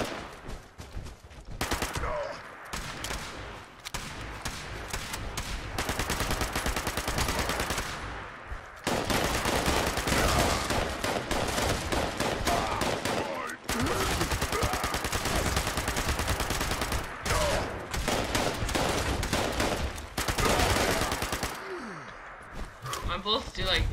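Dense, sustained automatic gunfire in Fallout 76 aimed at a Scorchbeast, long rapid bursts broken by brief pauses, loud and close throughout.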